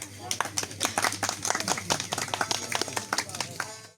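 An audience at a Baluchi music festival applauds as Liku performers are invited to the stage, a dense burst of clapping with sharp individual claps that swells and then fades out.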